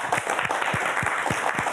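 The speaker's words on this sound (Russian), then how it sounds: "Эти аплодисменты тебе." A studio audience claps for a guest on an evening talk show, brisk rhythmic applause with distinct individual hand claps, close and fairly loud for a brief moment.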